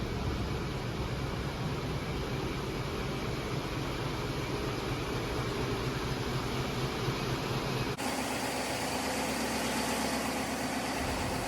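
Ship engine room machinery runs steadily, thermal oil pumps and heat exchangers droning in a loud, continuous broadband roar with a slight shift in tone partway through; no talking.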